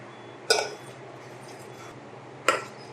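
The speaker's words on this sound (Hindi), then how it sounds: "अब इसके अंदर ये खोया शामिल करेंगे। इसको मिक्स कर लेंगे अच्छी तरह।" A utensil clinks twice against a bowl while khoya is mixed into an ice cream mixture, two sharp metallic taps about two seconds apart over quiet background, with no talking.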